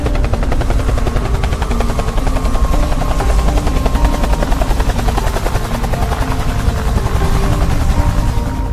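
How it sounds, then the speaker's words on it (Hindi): Loud, steady helicopter rotor thumping with a constant engine whine, close and continuous throughout, no voices. "बुल्ली को दिखता है कि उधर से हेलीकॉप्टर इधर ही आ रहा है।"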